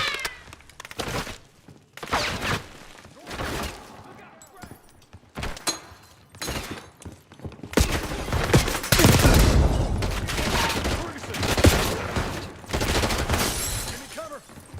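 Heavy gunfire in the video game Call of Duty Black Ops 6, with repeated bursts and volleys, loud and close. Voices talk over some of the shooting.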